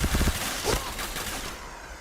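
Gunfire in the shooter game Point Blank comes as a quick burst of several close, punchy shots, followed by a rattling, fading trail of lighter gunfire and effects.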